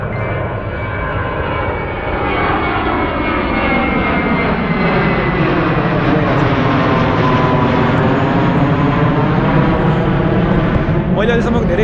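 An airplane flies low near Narita airport, its engine roar swelling and sustained across the whole stretch, close and loud, with faint voices underneath.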